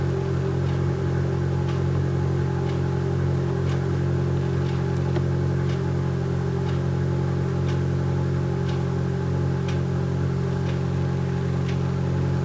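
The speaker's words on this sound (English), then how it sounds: "how do you like the noise of my neighbor's car?" A neighbor's car engine runs steadily nearby, a constant low mechanical drone with faint periodic ticks, heard alone without talk throughout.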